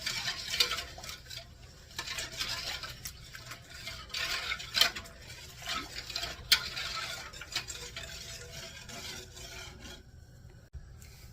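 Strawberry and blackberry pie filling whisked in a pot before the heat goes on, producing soft rhythmic scraping and rubbing strokes with light clicks, close and fairly quiet.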